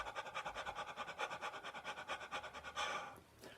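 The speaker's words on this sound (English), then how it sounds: "Panting" Rapid, rhythmic panting breaths as a singing breathing exercise, close and steady at about three or four per second, ending in a longer exhale.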